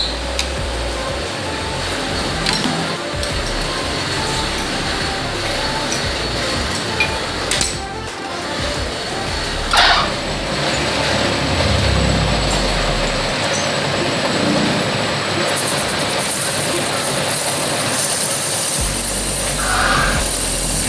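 A lathe cutting a Kawasaki KLX motorcycle cylinder block in a machine shop, a loud continuous grinding drone with occasional metallic clinks and a brighter rise near the end, no talk.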